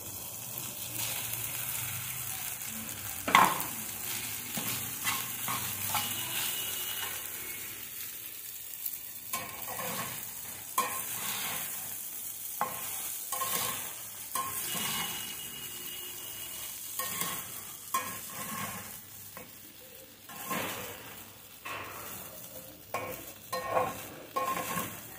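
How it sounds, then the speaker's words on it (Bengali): Vegetable sago with cashews and raisins being stirred as it fries in a pan, a steady sizzle with repeated scraping and clinking strokes of a spoon against the metal throughout, no talking. "ভালোভাবে মিশিয়ে নেব।"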